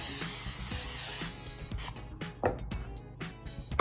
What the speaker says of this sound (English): I'm spraying it with buttery flavored spray oil